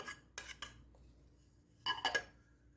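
A spoon knocking against a pan while tomatoes and shallots are stirred, a few sharp metallic clinks and scrapes in two brief clusters, close and quiet with no talking.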